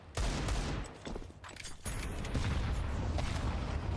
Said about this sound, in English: that double nade from GUN5